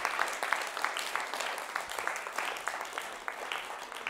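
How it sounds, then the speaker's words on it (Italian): A modest crowd of children and adults claps for a youth basketball team, a steady patter of hand claps at moderate distance, fairly soft and continuous. "Un applauso alla nuova Virtus Basket!"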